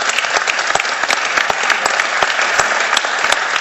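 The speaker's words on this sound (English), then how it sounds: "Well, let's just give him applause." Applause from a lecture audience at a business ethics lecture and award event, dense, steady clapping from many hands filling the room throughout, loud and sustained with no voices over it.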